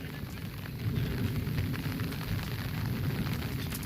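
Heavy rain pours down outdoors during cast-net fishing, making a dense, steady wash of noise with a low rumble underneath and no clear pauses.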